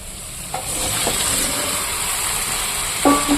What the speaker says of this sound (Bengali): এবার আমি দিয়ে দেবো এখানে সেদ্ধ করে রাখা ছোলে